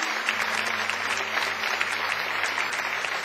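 Church congregation applauding the Lord during a sermon, a steady wash of clapping from many hands with a low sustained tone, likely an organ or keyboard, underneath and no talk.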